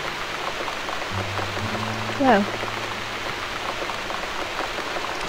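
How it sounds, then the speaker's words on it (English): Steady rain outside in a video game, a continuous hiss of falling drops with a low hum underneath and a brief spoken word over it. "still raining outside"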